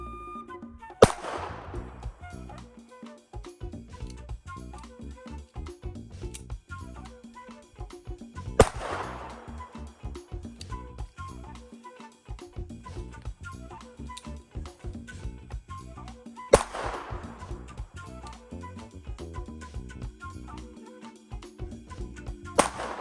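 A budget pistol fired at an outdoor range with straight lead, non-jacketed Blazer rounds: three loud, sharp shots spaced several seconds apart, each with a ringing decay, over steady background noise.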